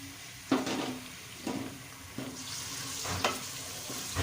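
Tomatoes added to sizzling masala for whole masoor lentils, a continuous frying hiss broken by several stirring scrapes and spoon knocks against the pot.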